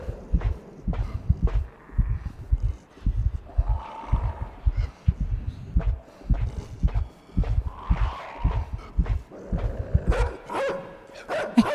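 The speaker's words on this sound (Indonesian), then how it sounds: "Anjingnya gonggong." A dog in the video game Inside barks over and over in a steady, rapid rhythm, loud and close, with thudding low beats running beneath.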